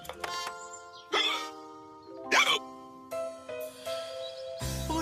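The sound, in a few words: cartoon dog hiccuping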